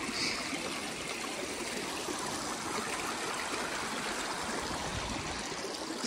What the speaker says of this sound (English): So weird to see a little river in the middle of the desert.